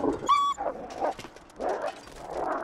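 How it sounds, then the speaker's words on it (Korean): Wolves in The Long Dark survival video game give a short high whine followed by several yelping, snarling canine calls, loud and close, with no talk over them. "야 근데 얘네 으르렁거리는 거 너무 무섭다."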